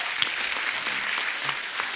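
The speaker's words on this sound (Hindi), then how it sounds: "इनके लिए जोरदार ताली हो जाए।" A studio audience at a taping of the Kapil Sharma comedy show breaks into a brief, lively round of clapping, a dense patter of many hands close by.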